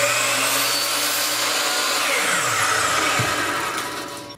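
A power tool cuts wood pieces with a steady loud whirring drone that shifts and dips in pitch as the blade passes through the stock, then winds down, with no voices.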